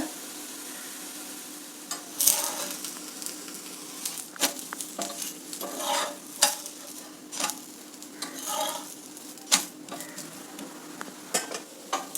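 A vegetable ragi roti cooks on a pan over a low flame, giving a soft steady sizzle with scattered scrapes and light clinks of a utensil against the pan, close by and with no talk.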